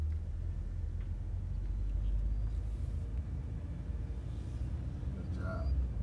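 Car interior engine rumble during a driving lesson as the accelerator is pressed, a steady low drone rising slightly, continuous throughout with faint road noise.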